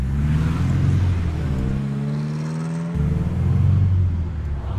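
A 1963 Alfa Romeo Giulia with a five-speed gearbox geared short drones loudly at high revs on the freeway, a steady close engine hum that dips briefly mid-way and then swells again.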